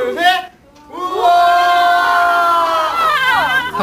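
A group of students shouts and cheers together in a sustained, loud burst of excited voices, rising after a brief dip and holding strong.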